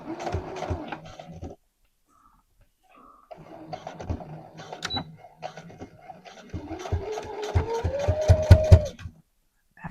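A sewing machine top stitches a legging pocket in short runs of close, rapid needle clatter with a rising motor whine, broken by a brief pause.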